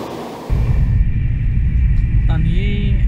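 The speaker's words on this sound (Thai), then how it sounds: "และนี่นะครับก็คือรถไฟขบวนที่เรารออยู่เดี๋ยวเราจะขึ้นขบวนนี้ไปเกียร์อีกัน" A train pulls into a station in Taiwan, on the route from Taoyuan toward Chiayi. A loud, close, low rumble sets in abruptly and holds steady, with faint squealing tones near the end.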